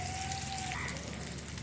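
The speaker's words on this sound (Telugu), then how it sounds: "ఈలోపు గిన్నెలు అయితే టిఫిన్ గిన్నెలు అయితే కడిగేస్తానండి." Tiffin vessels being washed with water: a soft, steady patter of running water and splashing, with a brief thin tone near the start.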